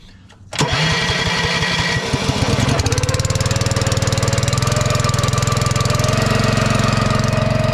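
A Honda engine on a Zeta 40P pressure washer with a loop system cranks and catches, then settles into a loud, steady, close-up running roar that continues without a break.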